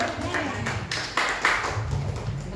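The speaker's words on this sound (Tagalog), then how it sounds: "Okay, palakpak natin si Lord" A church congregation claps during a worship service, a run of uneven hand claps under a speaking voice for a couple of seconds.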